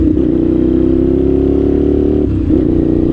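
A 1998 Suzuki TL1000R motorcycle engine rumbles loud and close, its steady throb climbing gently in pitch, then dipping briefly as the throttle eases before picking back up.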